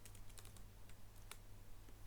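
Quiet computer keyboard typing in a calm ASMR setting: soft, irregular clusters of key clicks, close up and faint, over a low background hum with no voices.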